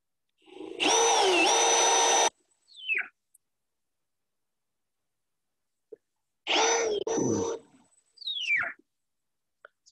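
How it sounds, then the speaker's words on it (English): Wooden boards for a raised garden bed are driven together with a power drill, two bursts of whining drill noise with squeaky tonal screeches, each followed by a short creaking squeal of the boards. "Sometimes boards will squeak like that."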